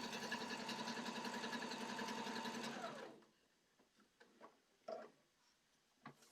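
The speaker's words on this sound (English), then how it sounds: "I'm kind of okay with the sound of your sewing machine." A sewing machine runs at a fast, even stitching rhythm for about three seconds, then stops, leaving a few faint clicks and knocks.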